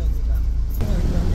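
A Mahindra Xylo pulling off onto the road, a brief low engine and road rumble that shifts in tone partway through, with people talking over it.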